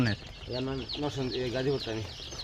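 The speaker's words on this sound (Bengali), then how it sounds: "হাঁস মুরগি দা হাঁস মুরগি" Ducks and chickens clucking nearby in a short burst of repeated rhythmic clucks, with voices talking over them.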